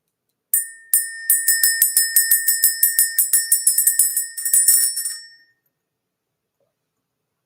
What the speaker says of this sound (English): Let's go ahead and ring this bell.